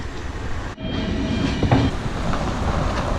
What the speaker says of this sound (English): this train just arrived